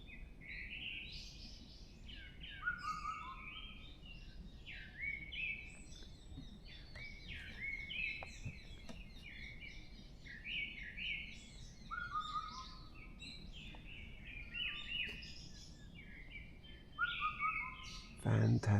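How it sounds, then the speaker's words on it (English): Many birds sing and chirp in a Korean forest in the morning, overlapping bright calls and trills near and far, continuing steadily, with a louder rustle near the end. "I just hope there's a bird close to my microphone because they're so loud in the morning."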